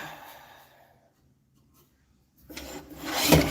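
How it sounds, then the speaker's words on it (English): An espave wood platter is sanded on a lathe, giving a soft rubbing hiss at first, a quiet gap, then a louder rising abrasive rasp near the end. "All right, let's sand it."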